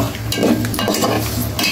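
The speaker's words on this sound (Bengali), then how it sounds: "এটাতে জিরা ধনিয়া দিছে, বাগার দিয়ে দিস" Cumin and coriander tempering in a wok for duck curry, a crackling sizzle with scraping stirs of a spatula against the pan, close and fairly loud with no talk.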